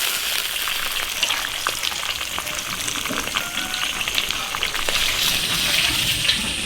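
A whole goose hits a hot iron wok in a Chinese home kitchen and sizzles loudly and steadily, a dense continuous frying hiss with occasional sharper spits and crackles throughout, close and without talk.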